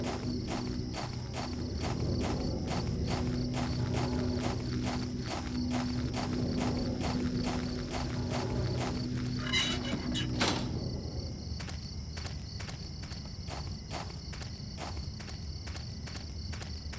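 Steady, evenly spaced footsteps from Silent Hill 4 tread across a hard surface at a walking pace, with a faint background hum and a brief clatter midway.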